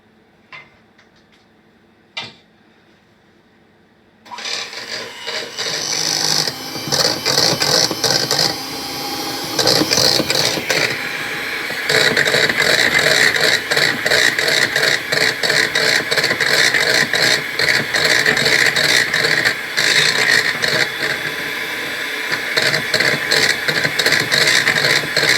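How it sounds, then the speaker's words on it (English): Electric hand whisk running on low speed, mixing flour into Yorkshire pudding batter in a bowl, a continuous close whirring with rattling ticks that starts after a few quiet seconds and runs steadily without speech. "I'm going to keep the whisk on a low whisk and to get it in"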